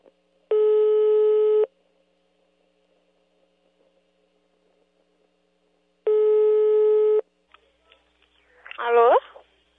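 A telephone ringback tone sounds on the line: two steady, clear tones about a second long, separated by a long silent gap, followed by a brief burst of a voice.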